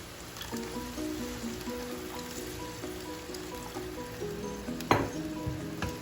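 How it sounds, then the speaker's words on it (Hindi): Two cups of water poured into minced meat cooking in a pan after yogurt liquid has dried off, a steady sizzle and splash with clinks of utensils and one sharp clatter near the end. "अब मैं इसमें डाल दूँगी 2 कप पानी"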